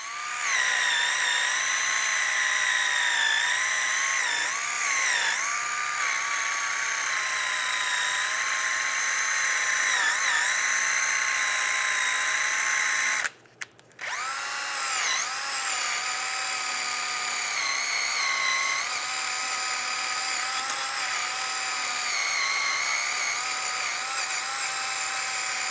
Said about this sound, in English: We're going to use a wire brush again, just a different style.